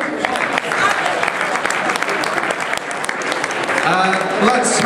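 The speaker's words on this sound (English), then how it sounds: "A round of applause for Ruth and Gavin." A crowd at an MK Dons versus Brentford football match event applauds continuously and loudly for a couple on stage, dense clapping throughout with some voices mixed in.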